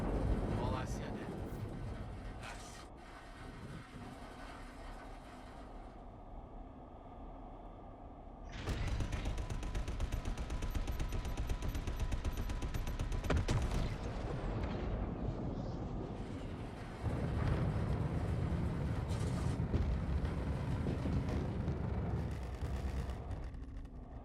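Turrets in a video game fire heavy, booming artillery-like blasts that roll out over a rumbling background, loud and repeated, with a voice talking over them.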